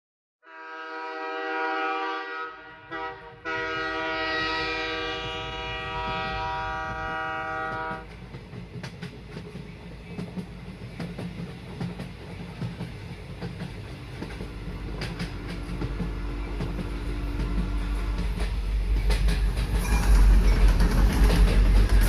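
Delhi-bound deluxe express train: a long, loud horn blast sounds first, then gives way to a steady rumbling run with rhythmic wheel clatter that builds gradually louder.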